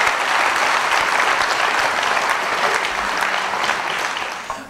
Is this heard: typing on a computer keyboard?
no